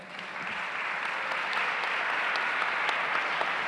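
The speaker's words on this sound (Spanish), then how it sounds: "Un aplauso para Leo." Audience applause at a panel event marking 40 years of democracy, building quickly and holding as a steady, dense clapping from a moderately sized crowd.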